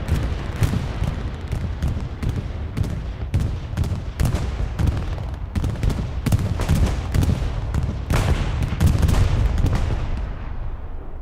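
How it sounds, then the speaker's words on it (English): Bombing run in Hell Let Loose, a night battle at Remagen: a dense barrage of loud, sharp detonations and heavy booms follows in quick, irregular succession over constant rumbling battle noise. "See how the bombing run fares?"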